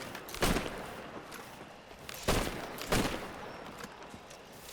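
A few sharp, separate gunshots ring out in Assassin's Creed Black Flag, with quieter footsteps and movement between the cracks.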